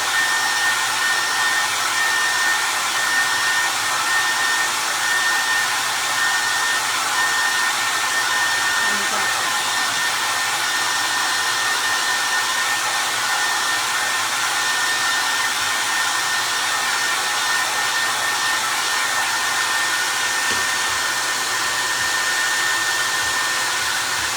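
A hair dryer blows continuously and loudly on a painted wooden star, a steady unbroken whoosh with no talking.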